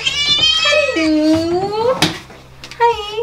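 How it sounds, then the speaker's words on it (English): A house cat sitting in a litter box meows several times in long, drawn-out, rising and falling cries, close and loud, with a brief sharp noise midway. "Hey, Kitty. Why are you sitting in the litter box"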